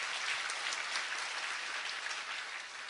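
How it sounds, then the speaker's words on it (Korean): Audience at a civic roundtable meeting in Daegu applauding, a steady, dense wash of many hands clapping at moderate distance with no talk over it. "여러분 그 박수 한번 부탁드리겠습니다."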